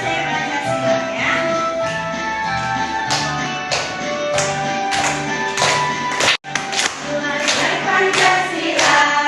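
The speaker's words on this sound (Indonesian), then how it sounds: "Tepuk pelajar Pancasila ya." A classroom group performs the Tepuk Pelajar Pancasila clapping chant, with steady rhythmic hand claps repeating over a continuous background of voices and music-like tones, interrupted briefly by a sharp dropout partway through.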